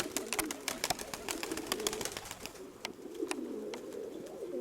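A pigeon coos steadily and close by in a loft of racing pigeons, with sharp clicks and flutters scattered over the soft repeated calls.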